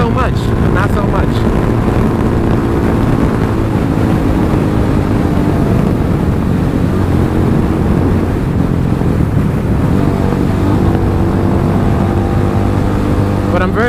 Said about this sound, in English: It's been windy from the last 3 days, so I can feel the wind pushing me more on this